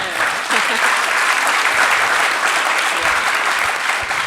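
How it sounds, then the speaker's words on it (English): A lecture audience claps in a dense, even burst of applause that carries on steadily throughout, with a few voices faintly beneath it. "feel free to applaud"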